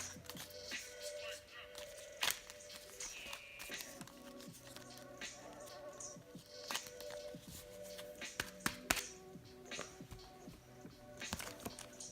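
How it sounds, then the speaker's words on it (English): A deck of tarot cards is shuffled and handled up close in irregular soft riffles, taps and scrapes, with faint talking in the background. "let's go ahead and shuffle these up again"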